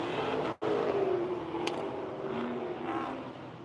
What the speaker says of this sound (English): I think that's one of those loud Camaros doing the autocross right now.